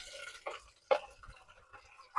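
Water trickles and drips into a container of rinsed grains set to soak for fermenting, in a few short, uneven splashes, close and fairly quiet, with no voices.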